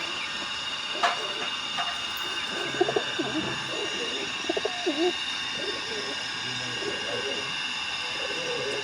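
High flyer pigeons coo in low, rolling calls through most of the stretch, with a few brief chirps over a steady background hiss.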